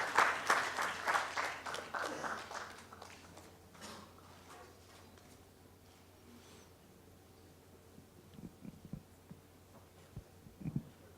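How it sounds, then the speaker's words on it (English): Applause from an audience at an award gala, a burst of clapping that is fairly close at first, then thins out and fades into scattered claps and low room noise. "Round of applause, please, for Childline India Foundation."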